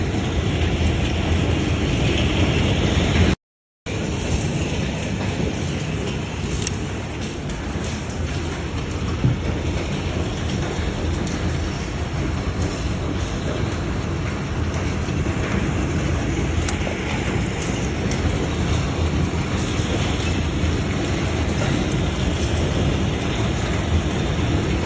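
A heavy hailstorm pounds down in Islamabad with large hailstones, a dense, continuous roar of impacts and rain that stays loud and steady throughout, broken only by one brief dropout, with no voices.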